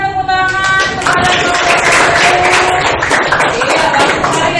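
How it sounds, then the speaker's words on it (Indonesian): Applause from a classroom audience during a teacher-training practice lesson fills the clip with dense, steady clapping. A faint tonal sound runs underneath. "berikan tepuk tangan kepada"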